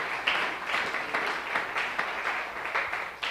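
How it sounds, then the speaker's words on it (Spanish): A church congregation applauds during a live Sunday school service, a dense and continuous wash of many hands clapping at once, fairly close and steady. "Un aplauso para Él en esta hora."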